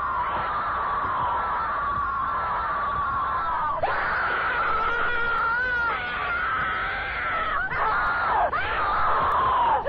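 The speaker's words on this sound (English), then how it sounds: "Why is the woman making her screaming like hell?" Woman screaming in a horror animation, a loud, sustained, wavering shriek with brief breaks that continues harshly for nearly ten seconds.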